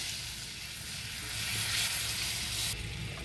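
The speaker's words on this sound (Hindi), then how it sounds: "तो पहले इसको बटर को पिघलने देते हैं।" Butter melts in a pan while cooking Kashmiri-style methi chaman, a soft, continuous sizzle and crackle heard close up and alone, swelling slightly midway.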